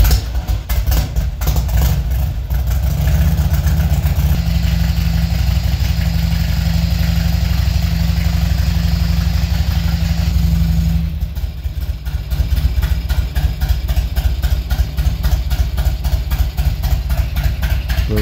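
A Harley-Davidson Electra Glide motorcycle engine idles steadily with a deep, loud, throbbing low rumble that holds constant throughout, with no talking over it.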